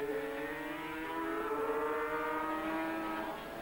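Racing motorcycles accelerating out of a corner at the 1984 Dutch TT at Assen, engines whining as they rise steadily in pitch, heard at a distance under a continuous roar.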